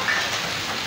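Heavy rain falls steadily in Lahore, a dense, even wash of hiss that is close and fairly loud, continuous for the short moment with no voices.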